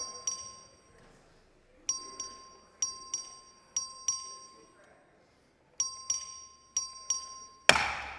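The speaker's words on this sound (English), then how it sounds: "Clerk, ring the bell." A division bell rings in a legislative chamber in repeated sharp strikes, single and in quick pairs, each tone ringing out and decaying in a quiet room, with no talking.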